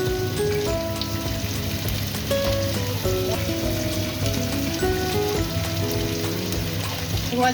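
Spices with ginger, garlic and cumin paste and chili powder fry in a pan, making a constant dense sizzle like rain, with faint clinks and a low tonal hum underneath.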